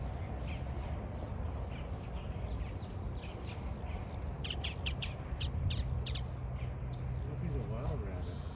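Crows caw in a quick cluster of harsh calls outdoors at a Florida resort, set against a steady wash of background noise.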